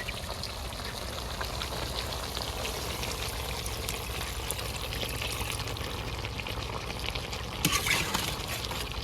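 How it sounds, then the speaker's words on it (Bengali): Water poured into a pan of sautéed cauliflower curry, a continuous splashing, bubbling pour that runs steadily, with a brighter burst near the end. "ফুলকপি কষানো হয়ে গেছে আমি জল দিয়ে দেবো"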